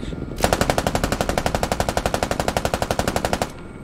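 A door gunner's machine gun fires from a Canadian CH-146 helicopter in the Squad war game: one sustained, rapid burst of evenly spaced shots, loud and close, lasting about three seconds before stopping abruptly.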